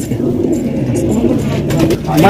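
Fancy pigeons in a collection coo steadily close by, a low rumbling murmur with faint background chatter from people.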